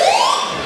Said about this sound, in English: the alarms are going off here at the pavilion